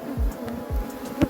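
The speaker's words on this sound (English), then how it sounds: "So this is one of our worst bees, but they have started doing some work, guys." Honeybees buzz around a spring hive during an inspection, a low droning hum with a few louder swells as bees pass close by.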